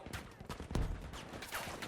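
Gunfire in Battlefield V from a Polish Karabin 1938m rifle review, a short burst of bangs and a heavier blast near the middle, moderately loud over a busy game mix.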